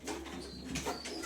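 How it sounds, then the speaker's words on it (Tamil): A young pigeon chick in a pigeon loft gives soft, steady cooing calls that run continuously at low volume against a constant background hum. "இப்போ ரொம்ப குட்டி புறா."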